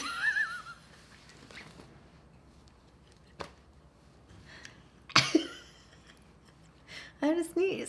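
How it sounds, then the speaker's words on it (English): A single sharp sneeze bursts out close by, partway through a relaxed conversation, with talking before and after it. "I had a sneeze."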